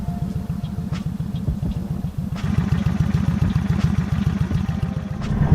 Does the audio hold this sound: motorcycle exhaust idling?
yes